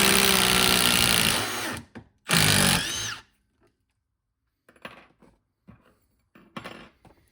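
A Milwaukee Fuel impact driver from the 3697-22 kit backs a screw out in two loud, harsh bursts with a brief pause between them. A few faint light clicks and taps follow in near quiet.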